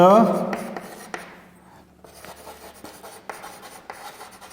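Pen writing out maths working for an arithmetic progression problem, short scratchy strokes and taps on paper after a brief opening voice, fairly close and clear.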